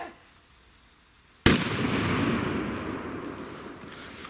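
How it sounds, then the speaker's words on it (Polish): A single sharp, loud Zena Red Salute firecracker bang bursts out after a quiet stretch, followed by a long decaying echoing rumble. "Teraz bierzemy petardy Red Salute"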